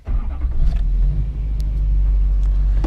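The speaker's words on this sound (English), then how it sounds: "So we're gonna want to start our truck up" A truck engine cranks and catches, then settles into a steady, loud low rumble of idling that carries through to the end, with no talk over it.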